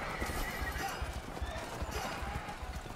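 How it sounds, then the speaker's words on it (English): A fast-galloping horse in the Rival Knights jousting game on iPhone: dense, rapid hoofbeats with neighing over a busy game soundscape, and voices underneath. "this horse is fast as crap"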